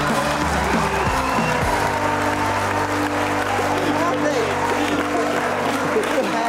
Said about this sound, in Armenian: Եկեք եւս մեկ անգամ ծափարենք։